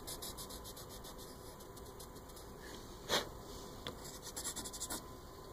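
Colored pencil scratching on paper in short repeated strokes, close and fairly quiet, with a louder rasp partway through and a run of quick strokes near the end.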